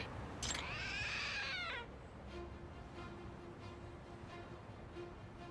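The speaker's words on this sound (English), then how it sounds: "It meowed." A single clear cat meow from a cat statue in the video game Lost Judgment, short and nearby, followed by quiet low background ambience.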